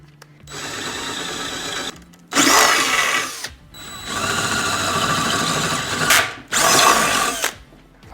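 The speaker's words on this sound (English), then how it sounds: "But I'll try and drill the holes first." Power drill boring holes into electric scooter parts for a Xiaomi 3000 W dual-motor 60 V build, two loud close bursts of drilling whine and grinding separated by quieter stretches of motor hum and handling noise.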